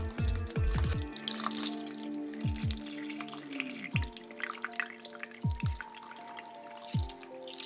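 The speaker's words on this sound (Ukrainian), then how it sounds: "І потихеньку заливаємо." Liquid slowly poured into a container of wood chips for making brandy: soft, close trickling with scattered drips and bubbly plops, faint and intermittent, no voices.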